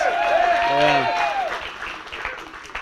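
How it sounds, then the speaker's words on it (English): A crowd applauds with sustained clapping at a wingsuit flying World Cup while a voice carries on over it, the cheering gradually fading toward the end. "Let's give him a round of applause."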